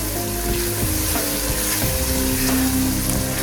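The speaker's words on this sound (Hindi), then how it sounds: "इस तरह हम मसाले को भून लेंगे" Masala spices roast in oil in a pan for a potato and green bean curry, a steady close sizzle with soft crackles and faint stirring underneath.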